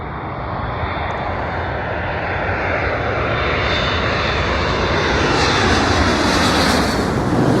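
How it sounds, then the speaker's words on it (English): An Amazon Prime Air Boeing 767 jet comes in to land at JFK, a loud steady engine roar building gradually and holding close throughout, with no voices. "And now we have a Prime Air 767 coming in."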